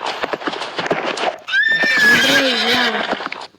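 Horse in the Roblox video game gives a loud, drawn-out whinny that falls in pitch, preceded by a run of quick clip-clop hoofbeats, close and clear with no talk over it.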